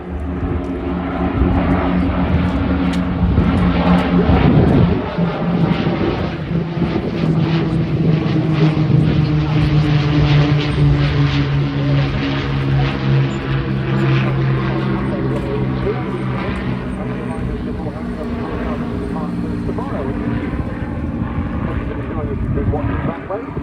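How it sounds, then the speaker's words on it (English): Supermarine Spitfire engines roar past at an air show, a loud sustained propeller drone that rises and falls with wind buffeting the microphone, while people talk nearby. "One Spitfire's gone there and another one's gone there."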